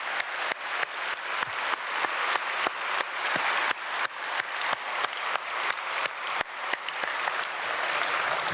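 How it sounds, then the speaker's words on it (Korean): A congregation at a Myungsung Church dawn prayer service applauds loudly and steadily throughout, a dense wash of clapping punctuated by sharp, regularly spaced accents. "우리 크게 박수 한번 해주시면 감사하겠습니다"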